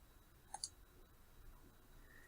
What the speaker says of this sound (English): So we can go ahead and click on the permalink.